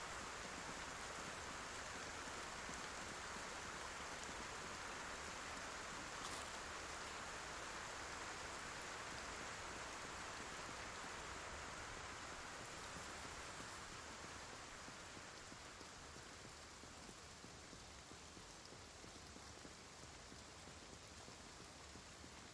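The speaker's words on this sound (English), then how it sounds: "All this rain sucks." Rain falls steadily in a zombie video game, making a continuous, even, faint hiss of drops on surfaces that holds for the full length with no speech over it.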